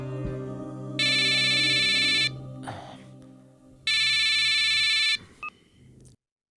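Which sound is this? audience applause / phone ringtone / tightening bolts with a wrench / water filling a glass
phone ringtone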